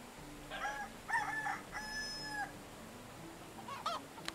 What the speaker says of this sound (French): Attention la poule, là.